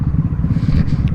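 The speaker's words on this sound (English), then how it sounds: "just give it a little blip of the throttle" Motorcycle engine running loud and close with steady low rumble as the throttle is briefly blipped during a clutchless downshift toward first gear.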